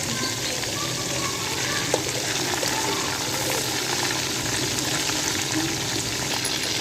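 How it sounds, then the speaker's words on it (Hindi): Beef koftas frying in oil, a dense, even crackling sizzle that holds steady and close throughout, with a single faint clink and no voices. "इसी तरीके से सारे कोफ्ते हम अपने फ्राई कर लेंगे"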